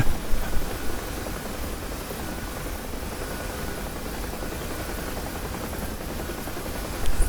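A UH-1 Huey helicopter flying in the DCS video game produces a continuous heavy rotor thump and broadband engine roar, steady and loud throughout, heard from the cockpit.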